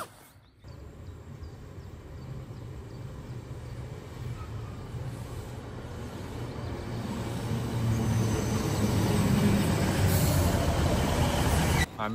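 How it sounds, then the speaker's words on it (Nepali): A train at a railway station in the Peak District rumbles steadily, its noise building gradually to a loud continuous roar of wheels and engine over about twelve seconds, with no talking. "train station I think one of the best view train station होला"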